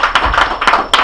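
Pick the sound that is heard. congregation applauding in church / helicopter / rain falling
congregation applauding in church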